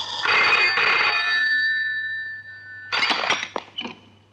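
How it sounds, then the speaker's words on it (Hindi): An old-style telephone bell rings loudly in two long bursts separated by a pause, with a sustained electronic tone lingering in between, and no talking. "एडिटर साहब, आपका फोन।"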